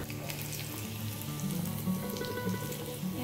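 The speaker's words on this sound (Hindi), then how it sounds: "यहाँ पे मैं सरसों तेल में लहसुन फ्राई कर रही हूँ" Garlic frying in mustard oil with a little cumin for a masoor dal tempering, a steady close crackle and sizzle with popping bursts throughout, no voices.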